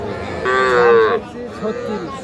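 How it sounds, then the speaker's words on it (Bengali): A young bull calf at a cattle market lets out a loud, close, drawn-out moo lasting under a second, followed by a few softer lowing sounds. "এটা তো ষাঁড় বাছুর"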